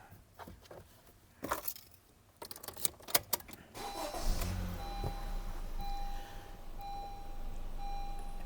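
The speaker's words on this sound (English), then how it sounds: "So I'm going to first turn on the car." A car engine starts up for an OBD2 diagnostic check. Keys jangle and a few clicks and beeps come first, then the engine cranks and settles into a steady, fairly quiet idle hum.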